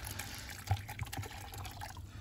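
Water poured out on a rooftop terrace for birds, a faint, quiet splashing trickle with a brief louder slosh partway through, heard alone.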